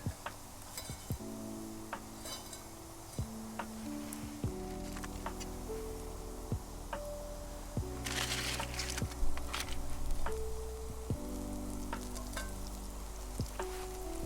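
Butter sizzling in a hot cast iron pan on an outdoor grill: a soft, steady frying hiss with occasional small crackles, running under background music throughout.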